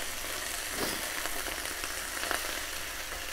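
Onions fry in a pan for lasagne, giving a dense, steady sizzle with a few faint stirring scrapes, close up and with no voices.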